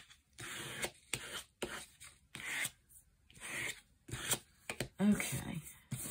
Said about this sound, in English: Card to smooth it down.